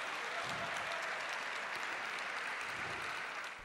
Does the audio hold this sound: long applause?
yes